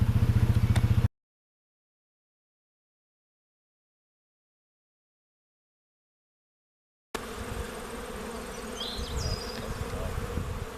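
Bees buzzing around a homemade bee feeder outdoors, a steady, close insect drone that cuts off into silence and then resumes as a dense, continuous hum with faint background noise.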